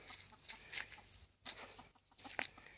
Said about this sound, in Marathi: आता लागल्या कोंबड्या कोकायला